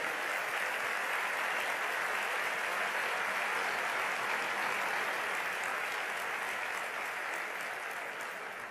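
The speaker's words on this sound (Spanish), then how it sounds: "Eso ya merece un enorme aplauso y agradecimiento a todos los argentinos." Sustained audience applause fills a hall at Mauricio Macri's party relaunch event, a dense, steady wash of clapping that runs unbroken and loud before easing slightly at the end.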